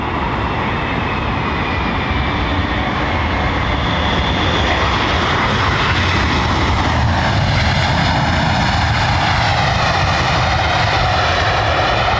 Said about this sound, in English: this thing's going to use full reversers